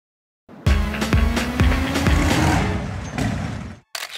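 Vehicle driving on an expedition around Mpumalanga, South Africa, a steady loud engine and road rumble with rhythmic bumps, cutting out abruptly near the end.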